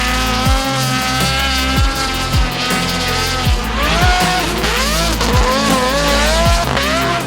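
Aston Martin Vantage V12 race car with twin superchargers screaming loud and close, repeated high revs and sharp gear changes with a ragged, busy engine note, no voices.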